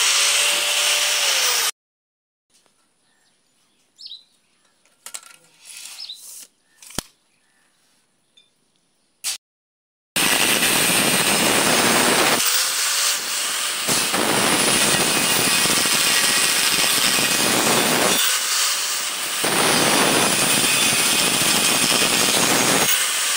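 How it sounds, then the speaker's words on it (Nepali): A machine cuts an iron sheet during iron door fabrication: a quiet stretch with faint clatter, then loud, continuous harsh grinding and cutting noise with a few brief dips in level. "देख्न सक्नुहुनेछ यो फलामको पाता त्यसलाई मेसिनद्वारा काटिँदैछ"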